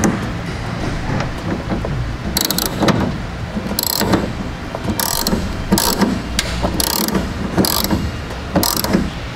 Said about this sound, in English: we can take our 7/32 Allen wrench and we'll start to tighten that down